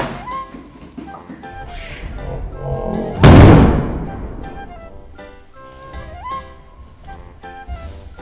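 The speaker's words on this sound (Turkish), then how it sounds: "Helyum yukarıdakilerden biri patladı." A helium balloon floating overhead at a child's birthday bursts with one sharp, loud pop, its echo fading quickly while voices and background noise carry on around it.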